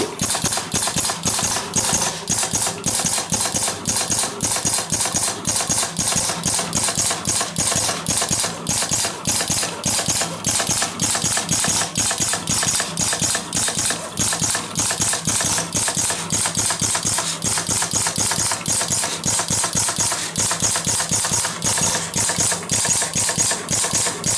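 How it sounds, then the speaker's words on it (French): A KRUNCH perforating machine punching organ music cards runs steadily, a loud, dense mechanical clatter of rapid repeated punches over a constant motor drone, close and unbroken throughout. "Et la perforatrice s'est amorcée."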